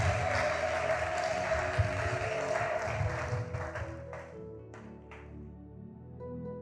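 Congregation applause during a French-language church sermon, a broad sustained patter of clapping across the hall that thins and tapers off toward the end, with organ or keyboard tones lingering underneath.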